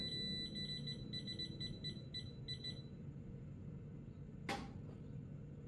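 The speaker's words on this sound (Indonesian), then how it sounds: "Jadi masih berkedip-kedip dan juga masih menyala alarmnya." A DCA AFF02-12L laser level sounds its out-of-level alarm: a series of rapid high electronic beeps in short repeated bursts for about three seconds, then it stops, with a faint click afterward over a steady low room hum.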